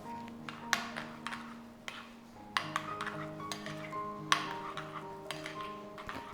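Spoon stirring lassi with cumin powder and chaat masala, giving irregular light clinks and taps against the glass or bowl over a faint background hum.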